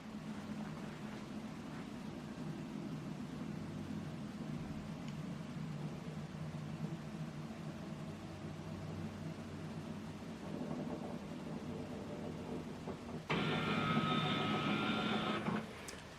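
An HP Envy printer scans a document with a steady mechanical hum and whir for most of the stretch, then a louder, brighter motor sound kicks in near the end before stopping.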